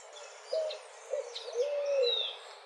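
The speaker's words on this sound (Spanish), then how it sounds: "se caracteriza por el típico canto gutural y monótono que anuncia su presencia" A bird in the agricultural countryside of Buenos Aires, Argentina, gives its guttural, monotonous call, a few soft hooting coos at moderate distance over steady background hiss, with faint higher chirps from other birds.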